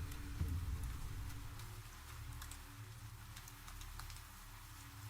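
Rain falling in a forest at night, a soft continuous patter with scattered drop ticks over a low rumbling bed, faint and even, with no talking.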